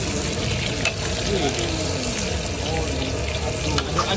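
Street-food noodles fry on a busy stall wok, a dense, loud, continuous sizzle and clatter of stirring filling the whole stretch, with faint background voices blending in.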